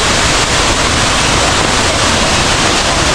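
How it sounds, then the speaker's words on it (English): Abbey Falls waterfall in Coorg, India, heard from about 50 meters away: a loud, steady, broadband roar of rushing water that fills the whole stretch without pause. "काफ़ी खूबसूरत वाटरफॉल है, very beautiful waterfall."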